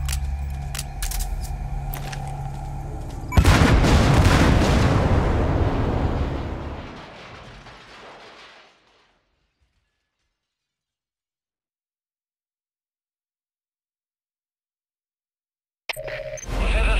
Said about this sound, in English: You destroyed the separator tank. Objectives complete. Though security will be tighter after that explosion.